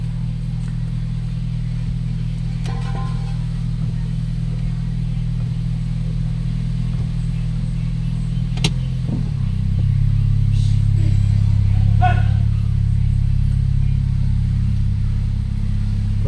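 A Toyota Corolla 1.6 engine drones loud and steady from inside the car on a road test, with a low hum that shifts pitch midway as speed changes, plus faint clicks and rattles.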